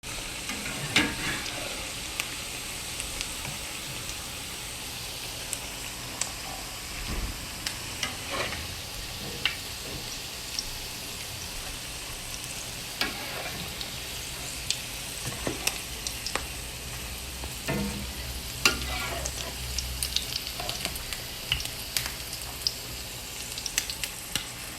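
Salmon croquettes fry in hot, popping grease, giving a steady close sizzle dotted with sharp crackles and spits over nearly half a minute, with no voices.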